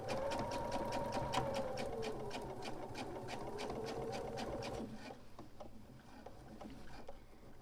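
Sewing machine stitching bias binding past a zipper on a fabric supply case: a steady, fast mechanical whirring with rapid needle ticks, then a slower, quieter run of stitches as it eases to a stop.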